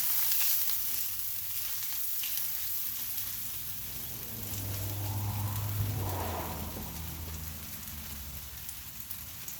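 Oil spread on a 22-inch Blackstone griddle gives a soft, continuous hissing sizzle with a faint low rumble beneath, steady and fairly quiet throughout.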